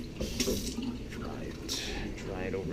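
Tap water runs steadily into a kitchen sink while something is rinsed off during chocolate chip ricotta cake cooking, a continuous close splashing stream with a voice speaking over it.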